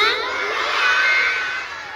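A group of children at a Ramadan class for first and second graders shout hooray together, one loud sustained cheer that tails off near the end.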